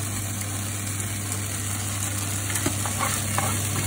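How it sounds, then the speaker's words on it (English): Garlic sautéing in oil in a pan, a steady broadband sizzle with faint stirring clicks toward the end, close and continuous with no voices. "Now in the same pan, I will be adding some more oil and then sauteing all my veggies."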